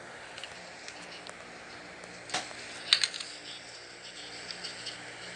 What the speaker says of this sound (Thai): มันก็จะเหมือนเสียงคีย์บอร์ด